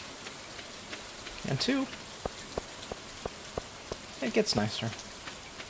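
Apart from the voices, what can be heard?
rain falling in the video game Stardew Valley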